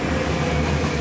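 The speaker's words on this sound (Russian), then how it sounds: "поезд HT 65000 компании CAF, это Испания" Steady low rumble of a CAF HT 65000 high-speed train in Turkey, a continuous rolling drone with no clear breaks, heard from nearby without talk.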